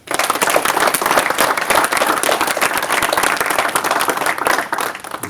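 Loud, sustained applause from a conference audience of young people, dense clapping with individual sharp claps standing out throughout.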